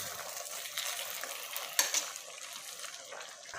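Spoon stirring oxtail tom yum with oil in a pot, a soft steady scraping and sizzle with faint clinks of utensil against metal, quiet and close.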